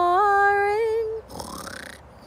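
A woman reading a children's story aloud imitates a bear snoring: a long drawn-out vocal snore followed by a softer, rougher breathy exhale, close and fairly loud.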